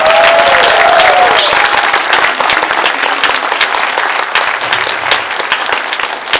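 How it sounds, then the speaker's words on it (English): Sustained, dense applause fills a hall at a Kappa Delta Pi honor society induction ceremony, with many hands clapping at once and a steady, loud level that tapers only slightly toward the end. "How about a round of applause for all of our"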